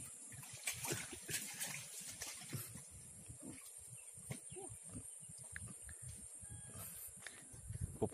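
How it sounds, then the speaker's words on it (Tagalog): Water runs and splashes into a bucket while eels are being caught, a mix of trickling and sloshing with irregular bursts, fairly faint. "Pupuno ay naman itong balde."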